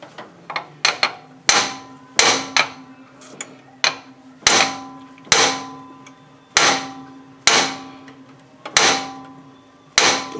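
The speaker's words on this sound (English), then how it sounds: "And I've got my little hand impact tool here. And we're going to give it a couple of whacks" A small hand impact tool struck repeatedly with a hammer, about a dozen sharp metallic whacks in an uneven rhythm, each loud and close with a short ringing decay, and no talking.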